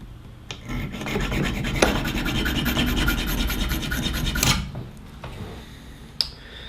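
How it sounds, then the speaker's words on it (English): A diamond file scores a hardened steel Allen wrench in a run of rapid, close rasping strokes lasting several seconds, followed by a few sharp metallic clicks and taps. "I was given this weird little diamond file, and there's a much simpler way to do this. I'm going to just try and see if I can put a score mark in here."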